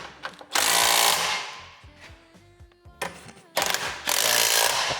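Small impact wrench tightening the end wheel bolts on a track, loud rattling hammering bursts separated by brief pauses with lighter clicks and clanks, close by with no voices.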